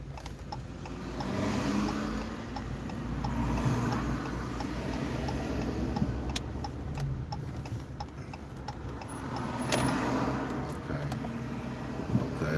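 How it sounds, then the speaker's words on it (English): Steady road traffic rumbling outside a moving car, heard from inside the cabin as a continuous broadband wash with a few faint clicks, no talking over it. "All this freaking traffic."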